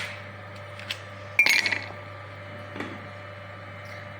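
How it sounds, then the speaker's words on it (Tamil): Ice cubes drop into a glass of freshly shaken banana milkshake, giving one brief bright clatter and clink against a quiet kitchen background. "இது நம்ம ஒரு கிளாஸில் ஐஸ் க்யூப் போட்டு"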